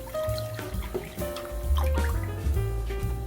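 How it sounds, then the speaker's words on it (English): Water and whole milk pour into a pan over high heat for masala chai, a splashing trickle with small drips and clinks, close and fairly loud, no one talking. "we will add 1/4 cup water, 1 cup whole milk"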